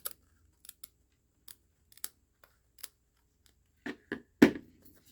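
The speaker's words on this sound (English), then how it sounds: "But I am going to trim this." Scissors snip through craft material in short, crisp cuts: scattered single clips early on, then a few louder, fuller snips close by toward the end, with quiet between them.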